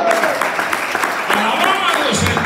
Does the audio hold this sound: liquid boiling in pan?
no